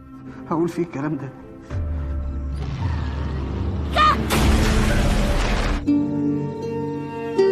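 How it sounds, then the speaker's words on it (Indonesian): A large explosion destroys a building in a film, a long roaring blast with rumbling debris under a narrating voice, surrounded by quieter film audio. "Ledakan besar pun menghancurkan gedung tersebut."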